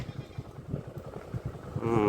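A motorcycle engine putters with a steady low rhythm on a riverside road by the Padma River in rural Bangladesh, growing louder toward the end as it draws closer.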